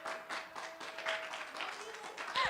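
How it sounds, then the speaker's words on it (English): Quiet, scattered clapping from a small youth group audience, faint and uneven, with voices talking over it. "give her a round of applause"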